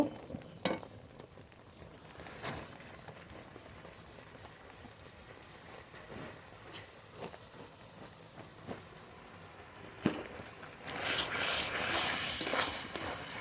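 Grated coconut stirred and cooked down in syrup in a pan for coconut naru, giving soft scraping stirs and scattered spatula knocks over a low hiss that grows into a louder, denser sizzle near the end.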